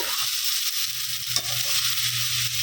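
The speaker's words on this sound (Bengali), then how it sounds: "ওইটাকে আমি ঢাকা দিয়ে দিয়ে ভাজবো" Onion stalks and cauliflower fry in a covered pan with a steady, close hiss of sizzling oil and occasional stirring, with no talking.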